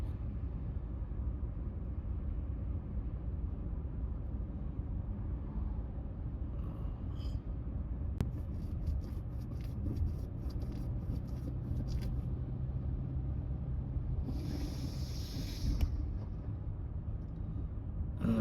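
A car drives along a road, probably a hilly route toward town, with a steady low engine and tyre rumble throughout and occasional faint higher clicks and rattles inside the cabin.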